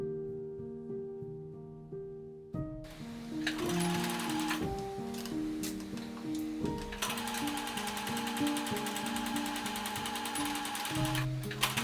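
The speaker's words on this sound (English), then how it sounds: "Pin and sew the side seams of the front and back bodies with right sides together." A sewing machine stitches the side seams of a hanbok's front and back bodies, a steady rapid mechanical whirr and rattle running close and continuous after a brief lower hum, with no talk.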